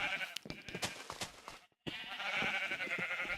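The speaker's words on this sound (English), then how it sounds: "Oh, sheep are glitching out." Sheep in the Minecraft video game bleat repeatedly in short, clear cries, several overlapping, with a brief silent gap midway before more bleats follow.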